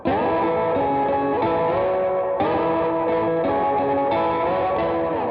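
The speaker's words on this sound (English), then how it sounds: "I'd like to add a little more distortion on top of that though." Distorted, effects-laden dream pop music plays loud and continuous, with sustained layered chords shifting every second or two and no voices.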